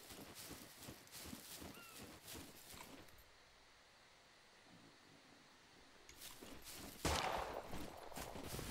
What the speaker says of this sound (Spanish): Hay tiros, ¿eh?